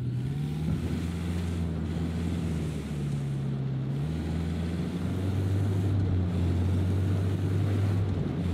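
A car driven in Ghost Recon Wildlands hums as a steady low engine drone with shifting tone, close and continuous under a broad wash of road and wind noise.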